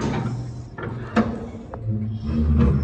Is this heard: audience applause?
no